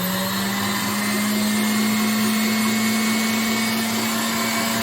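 KitchenAid stand mixer motor running off a 550 W power station inverter, a loud steady hum with a constant whirring tone, close and without pause.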